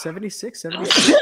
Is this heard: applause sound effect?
no